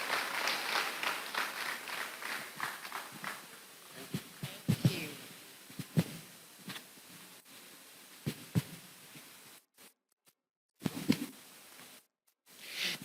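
Audience applause for the Vice Chancellor at a university inaugural lecture: clapping that is fairly loud at first, then thins to scattered, faint claps with near-silent gaps.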